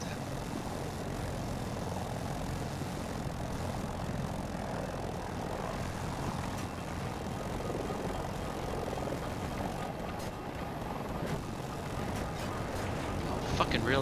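A helicopter flies in during a Battlefield 2042 match, a constant loud rotor and engine drone that fills the whole stretch, with faint game noises over it.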